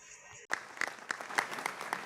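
An audience at a formal welcome ceremony bursts into dense applause for special guest BTS, starting abruptly after a brief hush and continuing loud and steady.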